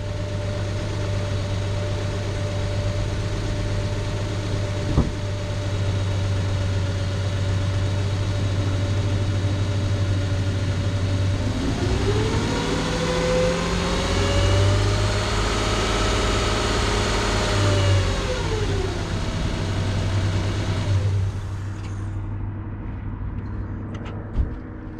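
The engine of a Nissan Pathfinder with a P0335 fault, one that dies while driving, idles with a steady hum. It then revs up to about 2,000 RPM, holds there briefly and falls back, close and alone.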